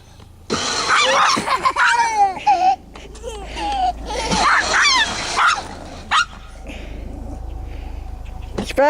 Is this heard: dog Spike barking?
yes